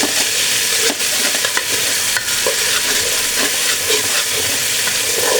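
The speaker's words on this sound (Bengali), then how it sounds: "আদা রসুনটা ভালোভাবে কষিয়ে নেব যাতে আদার কাঁচা গন্ধটা চলে যায়" Ginger-garlic paste sautéed in hot oil in a pan, a loud close sizzle with repeated scraping stirs of a spatula over a continuous frying hiss, no talking.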